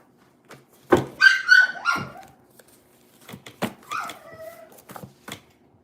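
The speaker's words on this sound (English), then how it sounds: "that dog over there making noise by herself" A dog barks and whimpers on her own in short, close vocal bursts, a cluster of yips followed by a quieter run of whines with gaps between them.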